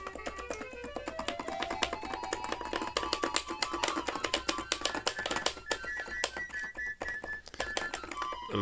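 Keys on a well-used Casio MT-800 electronic keyboard clatter and bang as they are pressed and released, a dense run of close, sharp clicks and knocks alongside faint played notes.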